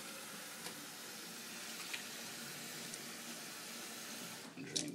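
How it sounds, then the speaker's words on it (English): Steady rushing of running water, like a tap pouring into a bowl, with faint clinks and splashes throughout; no one speaks. "And of course, washing the rice."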